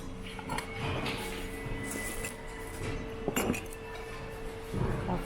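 Clear glass dishes and coffee mugs clink and clatter while being rummaged through in outlet bins, a run of light, scattered taps and knocks at close range with a busy background murmur.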